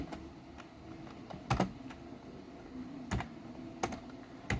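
Computer keyboard typing while program code is entered, quiet scattered key clicks with a few sharper louder keystrokes, no talking.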